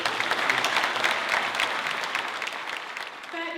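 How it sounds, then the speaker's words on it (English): An audience at a Palestine Red Crescent fundraiser in Newcastle applauds children in a full, steady burst of clapping that tapers slightly near the end. "Can you join me in applauding these?"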